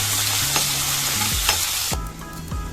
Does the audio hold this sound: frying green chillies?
yes